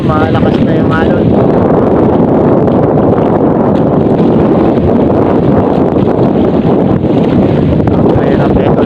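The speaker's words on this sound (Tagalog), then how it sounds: "Malakas na si Habagat. Malakas na yung alon." Strong southwest monsoon wind and rough waves at sea around a small fishing boat before dawn: a loud, continuous roar of gusting wind and crashing water.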